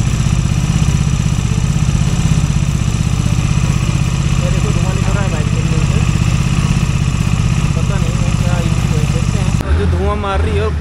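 A Bajaj Dominar 400 motorcycle runs at a steady idle after an oil change and service, its engine drone continuous and close while a voice talks over it.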